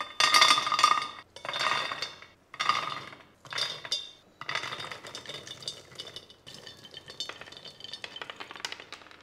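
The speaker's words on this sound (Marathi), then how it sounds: "उरलेले शेंगदाणे थोडे थोडे करून असेच भाजून घेऊयात" Peanuts are dry-roasted and stirred in a kadhai over a low flame, a spatula scraping and rattling through the nuts in rhythmic bursts of clinks and rustles with short pauses between them, with no talking.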